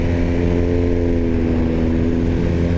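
A BMW R1250GS motorcycle drops a gear on the Nürburgring Nordschleife, its engine droning loud and close and holding a steady, rough tone throughout, with no talking.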